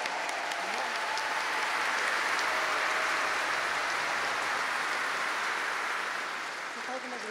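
Sustained audience applause fills a formal solemn session at a Brazilian legislative award ceremony, a steady dense wash of clapping at even loudness throughout, easing slightly near the end.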